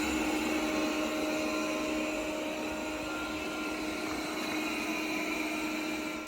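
A Honiture V8 Pro robot vacuum cleaner runs on its maximum setting, giving a steady, even whir with a faint tonal whine. It is close and continuous, with no talk over it.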